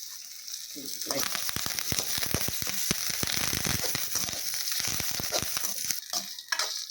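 Curry leaves fry in a pan for a fish curry, giving a dense, loud crackle of rapid pops that starts after a quiet first second and continues steadily to the end, with faint voices.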